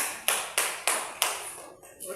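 Four sharp, evenly spaced claps ring out close by in a classroom, each followed by a short fading tail, then a brief pause before a softer rustle at the end.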